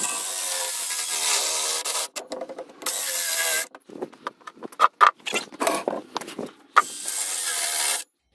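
A small hand saw cutting in a shed, with loud, close, steady buzzing strokes broken by abrupt stops, clattering handling noises and short bursts of cutting before it carries on.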